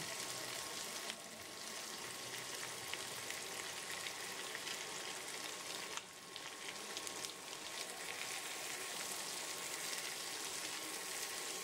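Diced tomatoes and capsicum frying in a pan for chili egg, giving a steady, dense sizzle like rain that holds evenly throughout, with no talking.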